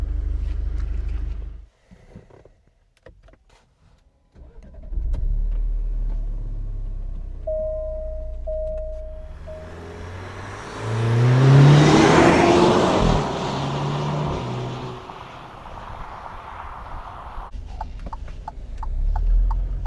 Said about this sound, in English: so driving the Alfa Romeo Stelvio